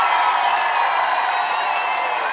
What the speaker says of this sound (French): un tonnerre d'applaudissements pour la première famille qui a participé à un air de famille